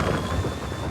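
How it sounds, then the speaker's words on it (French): Storm winds of 120 to 130 km/h rage around midnight during a tempest, a dense, continuous roaring rush with heavy low rumble and no break. "les vents se déchaînent"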